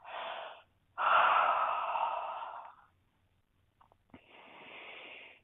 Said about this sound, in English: Big yawn on the exhale.